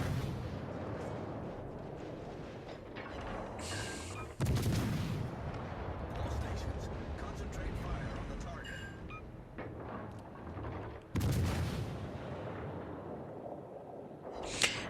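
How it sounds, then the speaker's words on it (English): Naval guns of the cruiser Weimar fire in World of Warships, sharp booming salvos at about 4 and 11 seconds over constant battle rumble and scattered smaller shots. "Richelieu kept pushing forward, so I ended up putting some shots into him."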